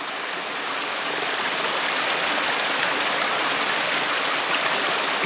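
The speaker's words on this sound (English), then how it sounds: "I do like a good waterfall." Water spills off a hillside in a small waterfall, a steady, close, full-bodied rush that holds without a break and with no voices.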